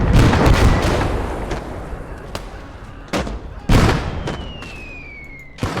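Mortar rounds thud and explode in the video game Blood Red Snow, with a heavy opening blast fading into a run of sharp, irregular booms and cracks, some close and loud, others more distant.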